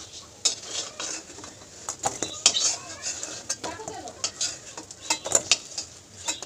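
Metal utensils clinking and scraping against a pan as fried food is lifted out, irregular sharp clatters close by over a faint background sizzle.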